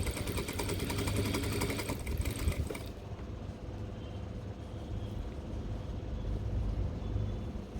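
A sewing machine runs steadily while stitching the hem of a pair of cargo pants with double thread, its motor whirring continuously throughout, a little busier and brighter in the opening seconds before settling.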